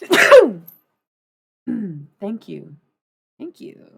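A single sharp sneeze bursts out at the start, followed by short spoken replies from people nearby.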